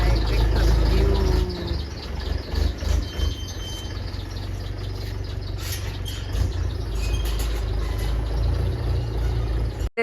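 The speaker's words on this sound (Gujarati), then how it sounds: "વાડી આપણું ટ્રેક્ટર હવે જાય છે. બાય બાય ટ્રેક્ટર ગયું." A tractor on a farm track pulls away, its engine rumbling loudly at first and then settling into a lower, steadier drone as it moves off.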